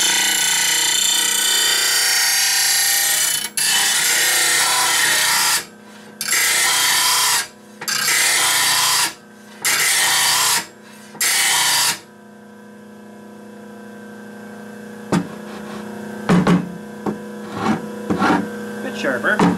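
A grinder tool sharpens in several loud grinding bursts broken by short pauses, then falls quieter, followed by scattered scraping and tapping sounds.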